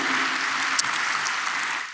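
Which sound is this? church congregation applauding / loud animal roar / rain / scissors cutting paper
church congregation applauding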